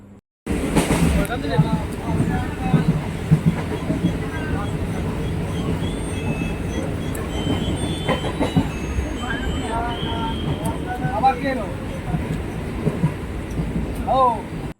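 A train rolls steadily across the Kalinarayanpur railway bridge, with a loud continuous rumble and rattle of wheels and carriages heard close up for most of the stretch, with faint voices and small bursts of clatter over the top.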